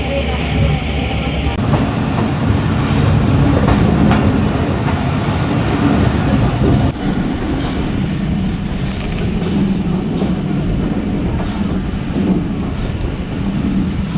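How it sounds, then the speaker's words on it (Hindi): A passenger train runs steadily on rails with a continuous low rumble and rattle, heard from on board with faint background voices mixed in. "हमारी ट्रेन बिल्कुल राइट टाइम चल रही है"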